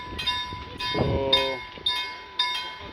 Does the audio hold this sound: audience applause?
no